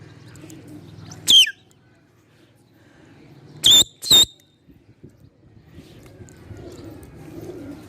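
Pigeons kept by a Karachi pigeon fancier give three short, sharp calls, one alone and then a quick pair, over quiet outdoor background noise.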